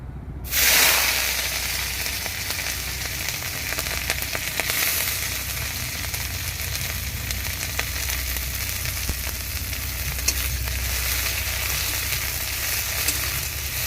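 Onion, green chilli, ginger paste and garlic paste fry in a wok with a steady, loud sizzle that sets in sharply after a brief moment and crackles on without pause, no voices.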